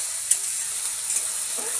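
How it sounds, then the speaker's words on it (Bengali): Potatoes, with onion and chilli, fry in a pan, giving a brief, even hissing sizzle at moderate loudness with a couple of faint clicks and no talking. "এখন আলু ভাজা করছি"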